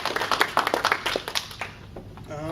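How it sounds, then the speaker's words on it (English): A small audience at a speech club claps for a speaker, a short burst of scattered hand claps that thins out and fades within about two seconds. "So, a big round of applause for Kaiser."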